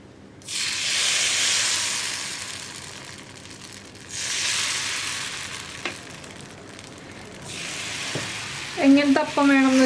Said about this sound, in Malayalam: നമുക്കിനി അപ്പത്തിൻ്റെ മാവ് നമ്മൾ ഉപ്പ് ചേർത്ത് മിക്സ് ചെയ്ത് വെച്ചിരിക്കുന്നത് ഇതിലേക്ക് ഒഴിച്ചു